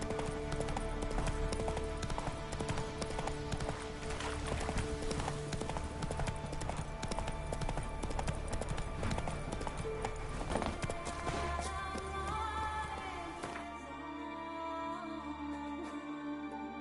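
Horse hooves clip-clop in a steady galloping rhythm in The Witcher 3: Wild Hunt, close and continuous against game music before the pace drops near the end.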